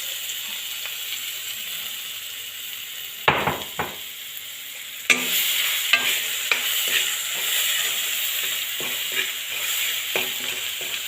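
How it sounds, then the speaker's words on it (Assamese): Onion, garlic, ginger, dried chilli, panch phoron and bay leaf sizzle steadily in hot oil, with a spatula stirring and scraping the pan in several sharp bursts. Close and fairly loud, no voices. "পাঁচফোৰণ, তেজপাত এইখিনি দি ভাজি লৈছোঁ"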